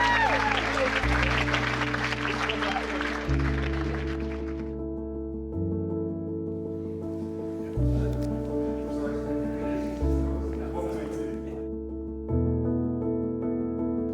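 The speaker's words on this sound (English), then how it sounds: "can we get a round of applause for Connor's tie?" Broad clapping from wedding guests fills the first few seconds, then fades beneath sustained organ-like music that continues steadily to the end.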